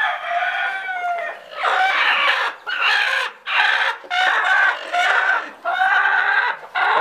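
Native country chickens on a farm cluck and crow loudly and close by in repeated bursts separated by short pauses.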